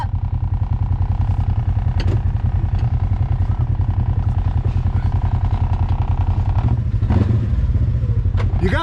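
A Polaris RZR side-by-side engine runs loud and close with a steady low, pulsing idle, throttle changes rising slightly near the end, while people talk over it.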